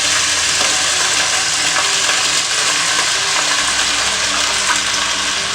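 Spiced potato curry mixture fries in hot oil in a pan, a loud, close, continuous crackling sizzle that holds steady throughout.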